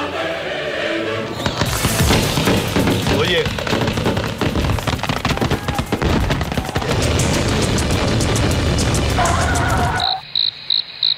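Dense, continuous crackling and booming bursts fill most of the clip, loud and close, with a voice calling out near the end.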